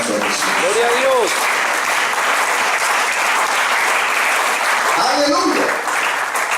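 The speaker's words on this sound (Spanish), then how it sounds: "¿Por qué no le dan un aplauso a Jesús?" A church congregation breaks into sustained clapping for Jesus during a Spanish-language sermon, steady and fairly loud throughout, with a voice calling out over the applause at the start and again near the end.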